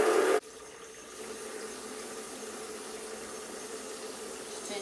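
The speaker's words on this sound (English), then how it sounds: "turn on the hot tap" Hot water pours from a tap into a basin, a steady, even rushing hiss that carries on without a break after a brief louder burst at the start.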